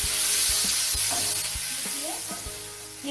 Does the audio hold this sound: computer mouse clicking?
no